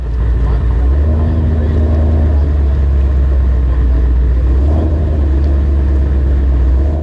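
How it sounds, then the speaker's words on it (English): A drag race car, likely running low nine-second passes, idles at the starting line with a loud, steady, deep engine rumble that continues unbroken throughout. "This thing sounds good. It could be a low 9-second car"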